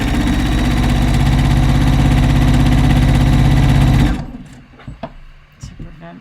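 A sewing machine stitches a robe jacket in a steady, fast, loud mechanical whir for about four seconds, then stops abruptly, leaving a few faint handling clicks and taps.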